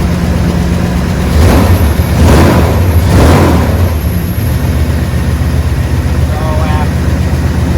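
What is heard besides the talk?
newly swapped engine running rough, one cylinder misfiring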